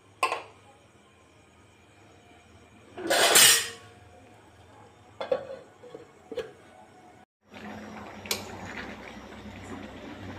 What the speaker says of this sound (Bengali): এবারে আমি ঢাকনাটা লাগিয়ে দেবো।